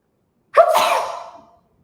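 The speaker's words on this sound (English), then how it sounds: "I have to sneeze" A single person's sneeze, close and sharp, bursting out suddenly and trailing off over about a second, with no talking around it.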